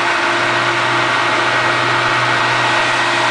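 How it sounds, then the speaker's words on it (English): An IntelliFlow variable speed pool pump runs at full capacity, a steady close motor hum with a constant low drone and broadband whir that holds even and unbroken throughout. "this is a variable speed pump right here by IntelliFlow, and it's running at full capacity right now"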